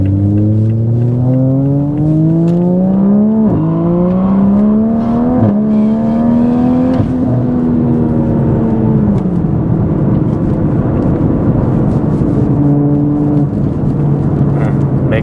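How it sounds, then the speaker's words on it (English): A loud turbocharged MK5 Toyota Supra with a top-mount turbo revs and climbs through gears at wide-open throttle, with pitch sweeping upward and dropping at shifts, plus brief hissing bursts as the wastegates open. "Wastegate was cracking open there, or wastegates I should say."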